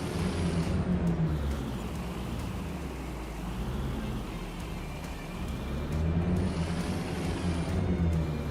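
A truck engine in the video game Farming Simulator 25 drones steadily, a loud low rumble that sags and swells slightly across the stretch, with a voice briefly audible over it.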